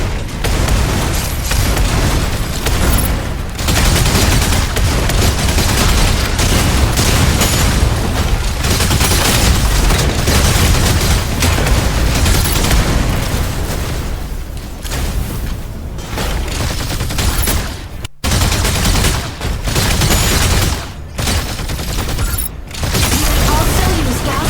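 Mech weapons firing in the Mecha Break video game, including energy autocannon, battle halberd and Gauss cannon attacks: continuous dense booming and bursts of gunfire, loud and sustained throughout, with short gaps near the end and voices mixed in.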